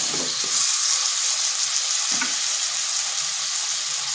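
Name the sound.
tomatoes with turmeric and salt frying in a pan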